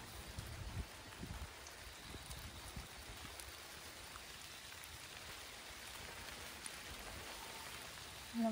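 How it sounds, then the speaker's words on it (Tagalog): Steady hiss of heavy rain falling on surfaces in a small vegetable garden, a constant dense patter with no voices. "Malakas ang ulan."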